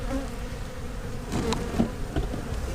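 Honeybees swarm loudly out of an opened hive, their dense, steady buzz filling the air up close with a few individual bees darting past nearer the ear.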